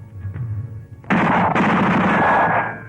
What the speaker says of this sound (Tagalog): Putok yun ah!